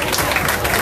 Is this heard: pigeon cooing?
no